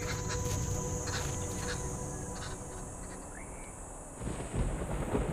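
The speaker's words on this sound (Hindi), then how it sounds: "लेकिन तभी दूर आसमान में बिजली कड़की" Distant thunder rolls across a dry savanna in Ruaha as lightning strikes, a low rumble that builds near the end over a faint steady outdoor background with a few bird calls.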